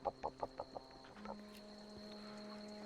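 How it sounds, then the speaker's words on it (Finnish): A rooster in the video game The Outer Worlds gives about five quick, evenly spaced clucks up close, then a long sustained tone hums faintly while the game's background ambience continues. "Sitä on kukko enemmänkin kuin kana"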